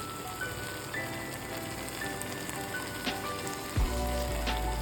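A paste of ground tomato, cashews and chilies sizzles steadily in a hot pan while being stirred, with a continuous frying hiss and a soft thump near the end.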